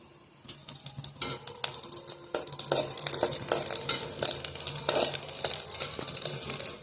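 A piece of chili dropped into hot oil for dal tadka, crackling and sizzling, the frying quickly building to a steady, close spatter.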